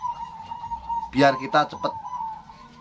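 A perkutut (zebra dove) in a breeding aviary gives soft cooing calls amid other birds, partly masked by someone talking close by.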